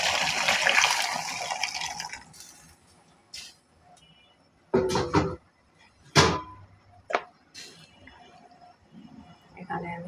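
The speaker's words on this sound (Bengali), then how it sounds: "পানি আরও দেব গরম।" Hot water is poured into a pot holding rice and milk, coming in several short splashing gushes with pauses between, close and fairly loud against a quiet kitchen.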